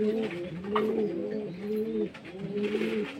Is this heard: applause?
no